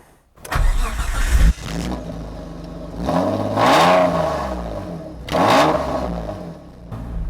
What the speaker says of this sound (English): Start her up and see what she sounds like.